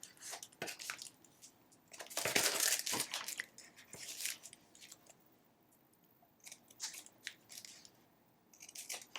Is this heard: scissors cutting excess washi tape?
yes